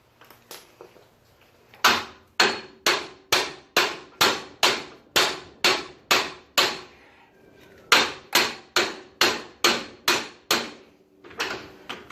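Hammer blows strike a car steering knuckle to free it, about twenty sharp metallic hits in two steady rhythmic runs separated by a short pause, loud and close, with no speech.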